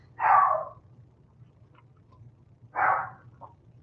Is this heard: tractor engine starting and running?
no